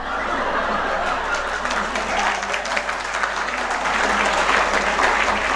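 Audience in a hall clapping at a motivational talk, a dense sustained wash of many hands that swells slightly toward the end, with scattered chuckles mixed in.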